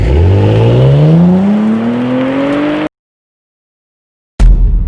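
Audi S4 accelerating hard on a cold day: a loud engine note climbs steadily in pitch through the gear, then the sound cuts to silence before a brief loud burst returns.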